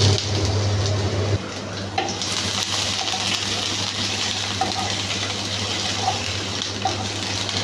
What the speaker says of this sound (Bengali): তেল গরম হয়ে গেলে দিয়ে দেব পরিমাণ মতো পেঁয়াজ কুচি রসুন কুচি